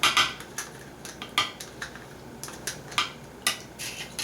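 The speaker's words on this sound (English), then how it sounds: "I'm going to add this in, using my whisk to help me out." Metal whisk clinking against a bowl while mixing apple cinnamon donut batter, a series of light, bright taps and scrapes at an uneven rhythm, close and fairly quiet, with no talking.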